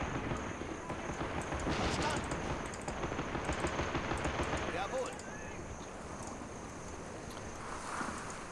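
Rapid machine gun fire from Men of War: Assault Squad 2, a dense, continuous rattle of bursts filling the scene at steady loudness, easing slightly after the first five seconds, with a voice talking over it.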